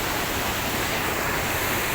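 Floodwater rushes along the Girnar route in Junagadh after heavy rain, a steady, loud, broadband roar that fills the whole moment without pause and with no voices.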